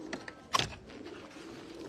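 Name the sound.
pigeon cooing at a pigeon breeder's loft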